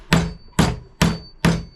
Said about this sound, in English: I flattened them a little bit with a hammer